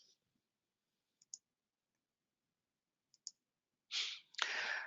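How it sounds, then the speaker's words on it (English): A computer mouse clicks while payroll software is navigated in a training session: two quick, close double clicks spaced a couple of seconds apart in near silence, followed by a louder burst of broadband rustling noise at the end. "click cancel on there"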